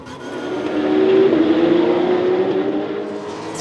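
A Porsche race car passes at the Paul Ricard circuit, its engine swelling loud as it nears, holding a sustained roar, then fading as it draws away.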